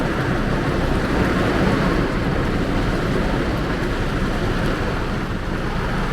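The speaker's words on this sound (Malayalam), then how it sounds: "നല്ല മഴയും പെയ്യുന്നുണ്ട്." Heavy rain pours down around a taxi in Trivandrum, a dense, steady hiss that fills the whole clip at an even loudness, with no voices over it.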